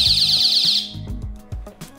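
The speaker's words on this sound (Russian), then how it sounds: "срабатывает сигнализация." A motion sensor alarm from AliExpress goes off with a loud, shrill electronic siren warble that cuts off after under a second, followed by a few knocks and handling sounds.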